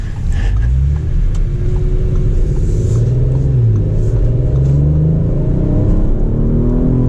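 A 2021 Audi RS5 Sportback with its turbocharged engine accelerates hard on a city street, a loud, low, continuous rumble climbing in pitch through the gears from inside the car.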